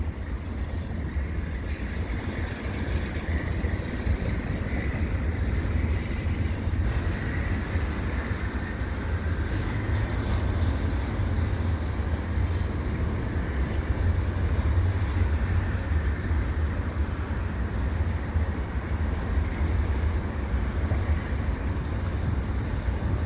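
A CN freight train rolls past at Dorval with a steady, loud rumble of railcars and wheels on track and a broad noise that continues without a break, while nearby road traffic waits.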